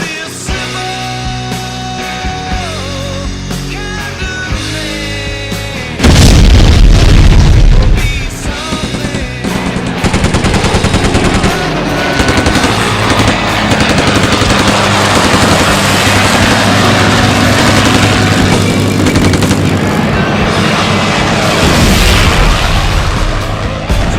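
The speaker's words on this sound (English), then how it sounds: "I think some kind of hard rock song is necessary for that." Loud hard rock song with driving drums and distorted guitars over a woodturning montage, opening with a quieter intro before a heavy full-band section kicks in and continues steadily.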